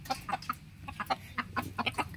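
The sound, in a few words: jungle fowl chickens caught in Malaysian forest clucking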